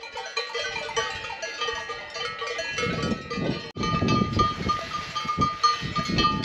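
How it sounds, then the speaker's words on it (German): Cowbells clanking on cows grazing a foggy mountain pasture along a hiking trail below the Buochserhorn in Nidwalden, a dense overlapping jangle of many bells, some near and some farther off. "Und wieder Kühe."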